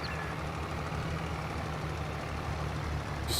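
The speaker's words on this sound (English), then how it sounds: "Just swivel the tractor a bit." Tractor engine in Farming Simulator 22, a steady low diesel drone idling or running at constant revs, faint and unbroken with no talk over it.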